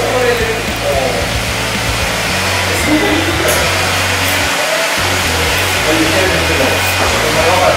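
Electric hair clippers buzz steadily while cutting hair with the clipper-over-comb method on a skin fade pompadour, a close continuous drone with slight shifts as the blade moves through the hair.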